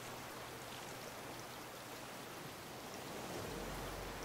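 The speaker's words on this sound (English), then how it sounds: "I wish this rain would stop so I could see properly." Steady hiss of rain in the ocean survival video game Raft, a constant broadband wash of falling water with no pauses, fairly faint overall.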